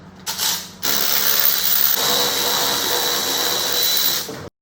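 A 19mm socket on a hand ratchet loosening handlebar bolts on an Indian Chieftain motorcycle: brief clicks, then a steady, loud continuous rasping ratchet action lasting several seconds before cutting off abruptly.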